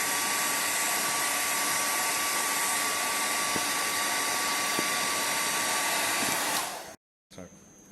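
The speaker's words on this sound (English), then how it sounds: "We are using this hand dryer to dry it like this." A hand dryer blows with a loud, steady roar for several seconds, drying a metal sample after quenching, then cuts off abruptly into silence before a brief faint noise.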